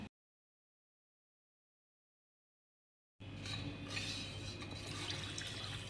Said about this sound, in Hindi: और अभी हम इसमें डालेंगे पानी।